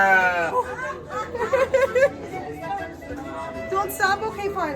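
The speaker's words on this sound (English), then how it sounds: "These are Wensleydale sheep." Wensleydale sheep bleat in a wavering series close by at a busy fiber festival, with people chatting around them.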